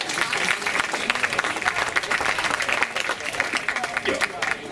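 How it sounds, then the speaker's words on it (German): A crowd applauds the second bingo winner at a summer festival, steady dense clapping throughout at an even level, with no speech over it. "Applaus für unseren zweiten Bingo-Gewinner."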